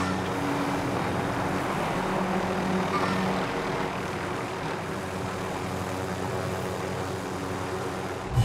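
Helicopter flying in Call of Duty Modern Warfare (Caldera map), a steady loud rotor and engine drone holding throughout with no talk.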